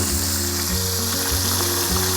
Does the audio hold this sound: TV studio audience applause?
no